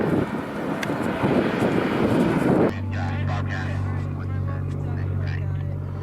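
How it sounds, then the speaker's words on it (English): Homeland Security helicopter flying overhead during a move on a protest camp, a steady low rotor drone that stays loud and constant after a burst of rough wind-like noise at the start. "That Homeland Security helicopter."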